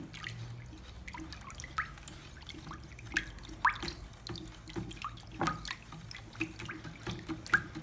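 Water being poured into wall paint and then stirred, heard as soft liquid splashes and trickling with scattered drips and light knocks, fairly quiet and close, with no talking.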